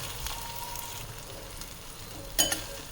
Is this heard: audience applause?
no